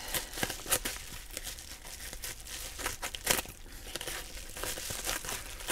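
Crinkly plastic package wrapping crackles and rustles up close while it is cut open, with irregular sharp crinkles and tearing bursts throughout.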